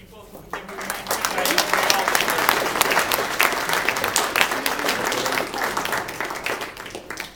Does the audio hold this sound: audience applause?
yes